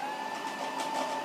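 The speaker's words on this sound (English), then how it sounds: "So I turn down my food processor, the speed, to lowest speed, and let's see what happens." A food processor turned down to its lowest speed while working apples runs with a steady, even motor whir that holds at a constant level throughout, close up with no talk.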